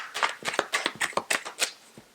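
Tarot cards being drawn and handled: a quick run of crisp papery flicks and slaps, about a dozen short bursts in an uneven shuffling rhythm, close and fairly loud with no talk.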